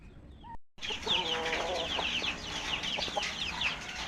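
Rhode Island chickens in a backyard flock cluck and chatter steadily and close by, with sharper bird calls mixed in; a brief silent gap comes near the start, then the clucking continues without talk.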